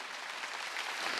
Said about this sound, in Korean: 박수 치며 하나님께 영광을.